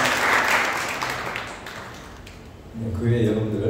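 Warm applause from a church congregation welcoming visitors fills the room, then thins and fades away before a voice begins speaking over the quieting hall.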